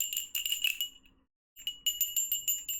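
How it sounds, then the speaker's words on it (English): A bell rings in the Zero Escape 999 video game, a bright, jingling tinkle of rapid repeated strikes that pauses briefly and then resumes, clear and loud with no talk. "Somewhere, he heard a bell ring."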